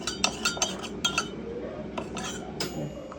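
A spoon clinks against a glass while stirring salt into a drink, a few light metallic taps and scrapes close by over soft background hum.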